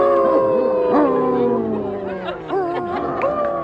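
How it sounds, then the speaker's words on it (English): A Basset hound howls in long, wavering, rising and falling cries that sound close and loud, with people's voices and chatter mixed in around it. "That's a great howl, yeah! That's a good howl."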